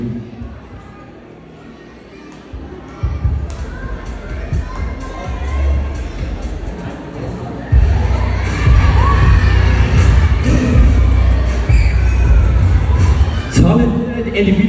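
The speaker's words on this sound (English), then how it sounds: "Again, let us give them a big round of applause." A high school pageant audience cheering and clapping, loud shouts and screams from a dense crowd swelling midway under a pounding, throbbing background, with a voice speaking over the noise.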